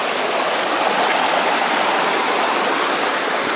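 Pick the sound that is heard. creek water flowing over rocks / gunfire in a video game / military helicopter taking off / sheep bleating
creek water flowing over rocks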